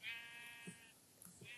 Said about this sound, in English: That's why I got the sheep